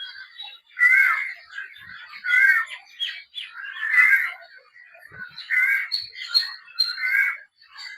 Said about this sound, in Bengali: পাখির ডাক, কিচিমিচি,